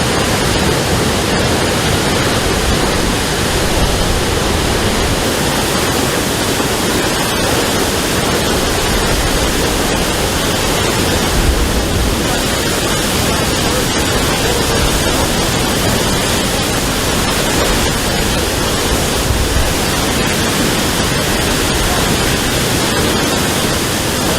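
Water gushes from a broken water main on a street in a loud, steady roar of rushing spray that fills the whole stretch without pause.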